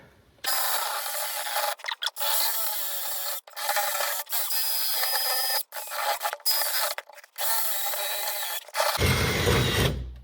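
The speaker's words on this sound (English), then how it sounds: "I'm gonna clean up the paint off these pipes, ready to cut and solder onto them" A wire brush scrubs paint off copper pipes with loud, close, harsh rasping strokes. Long bursts are broken by short pauses, and a heavier scrape comes at the end.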